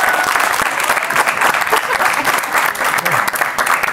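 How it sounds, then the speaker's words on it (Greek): Big audience applause at a Greek comedy show, a dense continuous wash of clapping from a large crowd, loud and steady for the whole stretch with no pause. "Εδώ θέλει μεγάλο χειροκρότημα."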